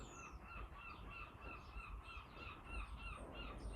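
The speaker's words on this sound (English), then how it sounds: "The seagulls are joining in with this." Seagulls call repeatedly at a distance over a steady bed of outdoor noise, their cries overlapping in an irregular chorus.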